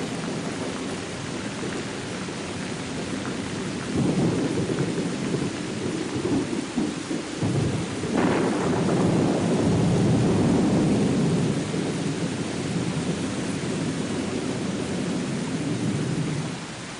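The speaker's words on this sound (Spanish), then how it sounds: "Empezó a llover muy fuerte." Heavy rain pours down in a storm, a dense steady roar throughout with a deep rumble of thunder swelling in the middle before easing back to the downpour.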